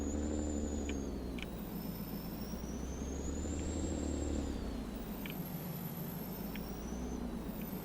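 A pickup truck engine drones at a steady low hum in a farming video game, with faint high whines sweeping up and down and occasional brief clicks, no talking.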